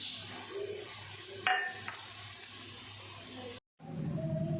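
Gram flour (besan) sizzles and is stirred in hot oil with coriander, a steady close frying hiss with spatula scrapes, a brief sharp clink and a short pause before the sizzling resumes.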